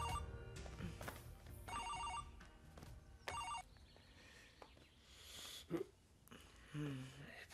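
A telephone rings with repeated bright electronic trills in bursts, heard indoors beneath background music and ambient noise in a dramatic scene.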